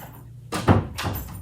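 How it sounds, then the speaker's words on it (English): An indoor door is shut with a dull thunk followed by a softer rattle as it settles, close and moderately loud in a quiet room. "I'm just going to go ahead and shut this door."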